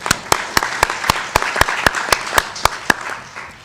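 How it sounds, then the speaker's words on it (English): Sparse, evenly spaced hand claps, roughly four per second, ring out in a hall at an African Union panel discussion on debt cancellation for Somalia, moderately loud over a low room murmur. "Round of applause for everyone"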